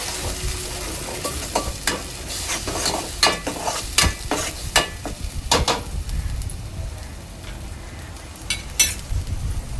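Ground masala paste sautéing in hot oil for a Koli-style ghol fish curry, a steady loud sizzle and crackle with repeated stirring scrapes throughout, close up and without talk.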